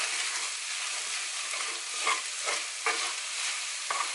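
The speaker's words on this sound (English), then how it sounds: "Give that a bit of a stir." Food seasoned with garlic frying in a pan while being stirred: a steady close hiss of sizzling oil with a few soft scrapes and bumps of the utensil, alone without voices.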